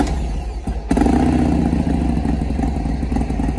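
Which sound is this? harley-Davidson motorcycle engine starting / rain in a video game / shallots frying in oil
harley-Davidson motorcycle engine starting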